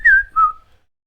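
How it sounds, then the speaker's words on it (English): A person whistles two short notes, the first higher and gliding downward, the second lower and held a little longer, close and clear against near silence. "You can whistle."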